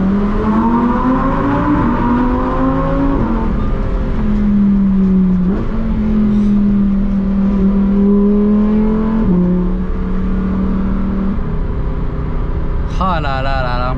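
Lamborghini Huracan STO accelerating from inside the cabin, a loud engine climbing and holding through the gears with a shift around the midpoint, a high whine appearing near the end, and a driver speaking over it.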